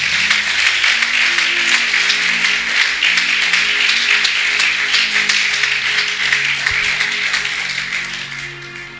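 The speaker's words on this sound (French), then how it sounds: "Put your hands together for yourself." A church congregation applauding during a sermon, dense sustained clapping that fills the room loudly and evenly before starting to fade at the end.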